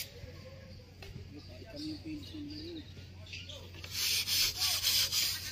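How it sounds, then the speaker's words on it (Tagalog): Sandpaper rubs over the outside of a new wooden boat hull in repeated scraping strokes. The strokes grow louder and harsher near the end, and a person talks quietly in the background. "Ito po ang labas naman na ang nililiha."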